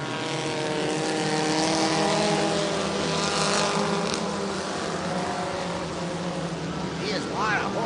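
IMCA Northern SportMod race cars roar at full throttle after the green flag on a Nipomo, California dirt track, a loud sustained engine drone with rising and falling pitch, an announcer talking over it throughout.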